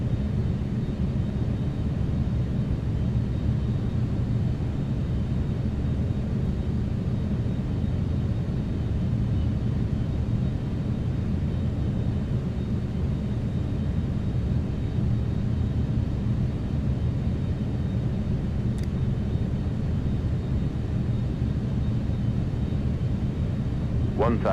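An American A321neo airliner taxiing in X-Plane 12 gives a steady low engine rumble and hum, continuous and fairly loud, with little change throughout and a faint brief chirp near the end.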